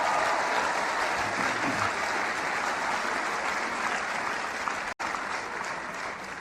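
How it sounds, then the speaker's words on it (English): An audience at a motivational speech breaks into loud, sustained applause: a dense, even wash of clapping that fills the space, close and continuous, with no voices over it. "Give yourselves a round of applause."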